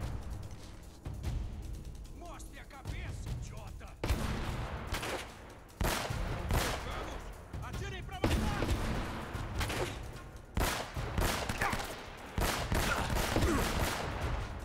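Gunfire in the video game Uncharted: Drake's Fortune, with repeated bursts of shots and sharp reports scattered across the scene, loud and close, alongside game effects and a voice at times.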